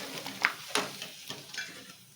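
Thin, white potato wafers fry in hot oil with a quiet, steady sizzle, broken by several soft clinks and scrapes of a slotted ladle stirring in the pan; no voices.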